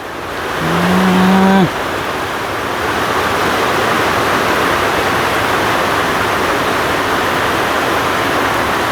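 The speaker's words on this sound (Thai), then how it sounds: "ฝนตกค่ำพอดีเลย" Heavy rain falling, a loud, dense, continuous hiss that fills the whole stretch, briefly joined near the start by a short low moo-like tone.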